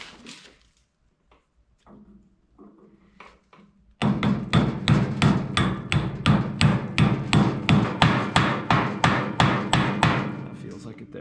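Repeated hammer blows drive a bearing race into a casing: after a few quiet seconds of light handling, about fifteen loud, close, evenly spaced metallic strikes follow in a steady rhythm.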